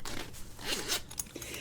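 A zipper on the front pocket of a sewn travel belt is pulled open in a short, close, raspy burst lasting under two seconds.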